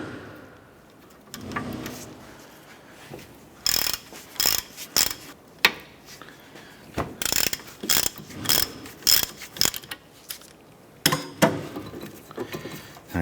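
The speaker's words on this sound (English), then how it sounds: "Using a 15mm socket, we're going to go ahead and remove our caliper bracket bolts." A ratchet with a 15mm socket loosens caliper bracket bolts on a 2006-2013 Chevrolet Impala, giving close, loud bursts of rapid clicking in repeated short strokes, with pauses between, alone and without talk.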